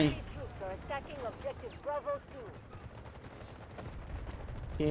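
Mk18 rifle gunfire in the video game Delta Force, a steady stream of rapid shots under dense game audio, with tonal game sounds layered over the firing.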